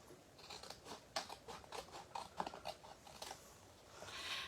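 Scissors cutting card stock alongside a score line: quiet, close crisp snips in an irregular series of short bursts, ending with a soft rustle of the paper.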